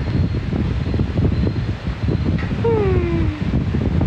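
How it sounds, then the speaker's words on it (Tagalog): Gusty wind buffeting and rumbling, rising and falling continuously, with a faint whistling tone drifting in near the end. "Sarap ng hangin."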